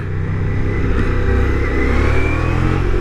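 Loud, steady engine rumble from a motorcycle being ridden, likely one of a Triumph Speed 400, Ducati Diavel V4 or Triumph Tiger 900 GT Pro, with the revs rising slightly over three seconds and no talking.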